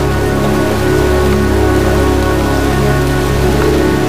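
Heavy pouring rain in a cemetery scene from the video game Heavy Rain, a loud, dense and steady hiss of rain striking surfaces that continues unbroken throughout, with no voices.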